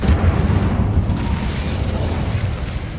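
A fire spell blast in Hogwarts Legacy erupts with a dense, rumbling boom that keeps roaring steadily for several seconds, loud and close, with no talking.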